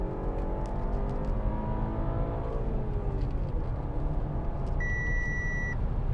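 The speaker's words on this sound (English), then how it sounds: "that beeping telling me that perhaps I should cut that out, that I'd just gone over the speed limit" A steady electronic speed limit warning beep sounds about two-thirds of the way through, over the continuous hum and road noise of a 2014 Audi A5 2.0 TFSI quattro Sportback driving.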